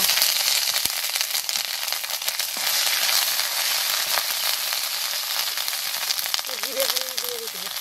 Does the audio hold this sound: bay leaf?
yes